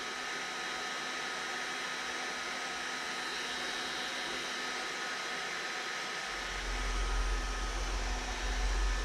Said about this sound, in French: Donc le décapeur tourne encore.